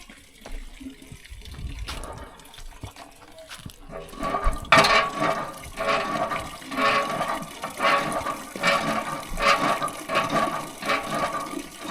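Water is pumped in a rural Lao village, a rushing, gushing flow that surges in rhythmic pulses, fairly close and loud, running steadily after a quieter start.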